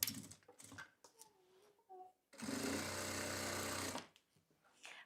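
A sewing machine stitching around the edge of a baby's hooded towel, a steady whirring run of about two seconds between quiet stretches with faint background voices.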